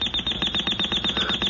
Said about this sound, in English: Oh, turn it off, Ted. What? The alarm